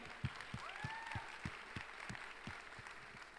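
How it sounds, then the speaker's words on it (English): An audience at a Mumbai tech week event applauds, with evenly spaced claps and a soft crowd wash underneath, heard faintly from a distance. "let's have another round of applause for the chairman of Jio, Akash Ambani."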